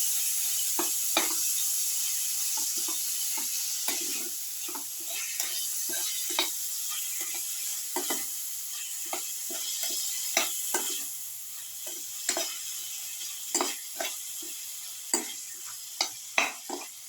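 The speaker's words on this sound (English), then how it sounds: "put in the tomato pieces, thoroughly mix." Tomato pieces sizzle in a hot pan while a utensil stirs and scrapes through them in uneven clacks over a constant frying hiss, close by and without talk.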